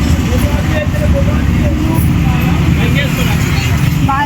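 Heavy road traffic during the Ganesh Chaturthi festival, a dense constant rumble of cars and buses with scattered horn-like tones, and voices talking over it.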